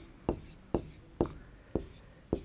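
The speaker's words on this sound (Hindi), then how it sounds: "हल में लिखेंगे बच्चों" Chalk or pen writing out a maths solution, five sharp tapping strokes spaced about half a second apart, close and moderately loud, with faint whispery breath between them.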